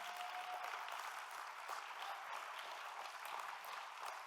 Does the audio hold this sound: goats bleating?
no